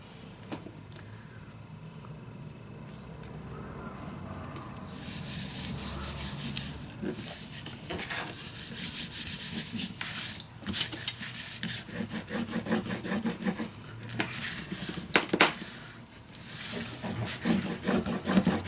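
Paper is burnished down by hand on a mini album project in a storage box, giving a steady rubbing and scraping sound that starts soft, then grows louder and busier with repeated close strokes.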